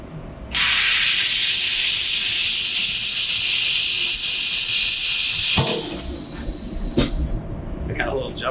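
An ESAB plasma cutter slicing 6 mm stainless steel: a loud, steady high hiss starts abruptly and runs for about five seconds, then cuts off, leaving clicks and faint shop noise.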